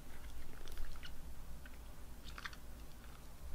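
Someone crunches Chirin Kampai Ramune, a Japanese candy, between the teeth: faint, close, scattered crisp cracks over a quiet background, with a sharper crunch at the end.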